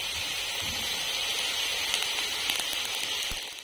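Steady rain falls outside a village home during cooking, a dense even hiss with a few faint drips and taps near the end, with no talk.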